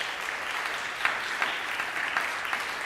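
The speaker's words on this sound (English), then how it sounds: "Can we give them a round of applause?" Steady audience applause at a middle school honor society induction ceremony, a dense crowd of clapping hands sustained for a few seconds at moderate volume.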